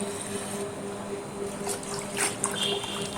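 Home-grown garden vegetables are rinsed under running water, giving a steady close trickle and splash with a few louder sloshes near the end and a faint background hum.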